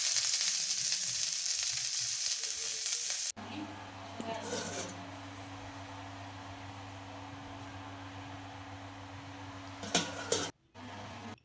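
Fried rice sizzles loudly in a pan for a few seconds, then the kitchen drops to a low hum with occasional utensil clinks.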